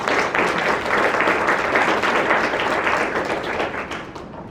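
A conference audience at the NatHaz disaster-recovery gathering breaks into sustained applause, a thick, even roar of many hands clapping that holds steady and then fades slightly toward the end.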